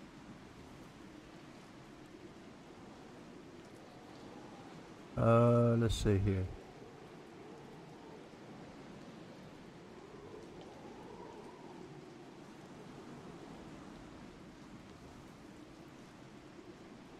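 Continuous rain in the Pirates of Pangea video game, a soft, even patter and hiss, carries on throughout, with someone briefly speaking over it partway in.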